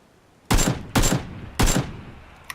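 Three loud bursts of gunfire from the video game PUBG, spaced roughly half a second apart, each ringing out and decaying before the next, with no talking.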